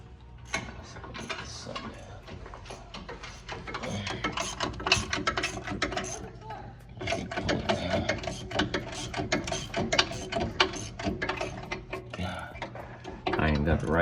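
A socket ratchet wrench with a wrong-size socket spins a bolt down on the front end of a Brougham, giving rapid, close metallic clicking in uneven bursts with brief pauses.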